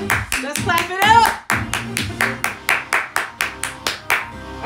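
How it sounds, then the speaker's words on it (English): One person claps hands at the start of a livestreamed talk, a near, loud run of sharp claps, first quick and irregular, then a steady regular beat, with a spoken voice mixed in briefly. "Let's clap it up."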